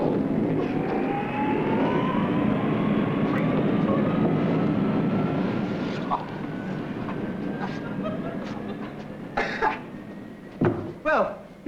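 Concorde jet roar, a loud sustained rumble with a slowly rising whine that fades after about six seconds, followed by a few sharp bursts near the end.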